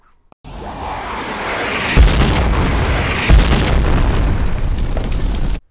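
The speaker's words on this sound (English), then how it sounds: "like when my toy missiles accidentally went off!" Loud, sustained explosive roar from toy missiles going off by accident, a continuous blast-like rush with two sharper booms partway through, all close and without talk.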